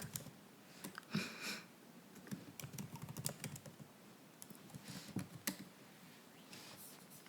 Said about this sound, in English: You're just going to hear me typing